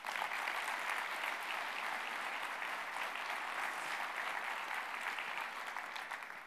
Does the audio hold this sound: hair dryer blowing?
no